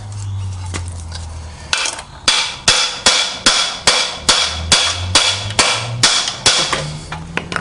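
Hammer striking a Briggs & Stratton lawn mower crankshaft, a loud, steady series of about a dozen sharp metallic blows in even rhythm, close and ringing, with a few lighter taps before it starts.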